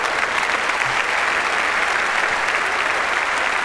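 Steady applause from an audience at a family Christmas comedy sketch, dense and continuous throughout without a break, with no voices standing out above the clapping.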